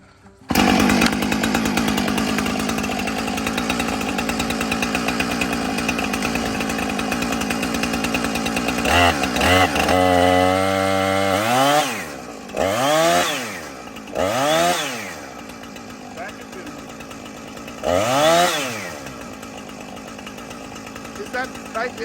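A chainsaw, freshly adjusted after its chain came off the gear, runs loudly at a steady idle, then is revved up and down in several sweeping surges before settling, close and dominant.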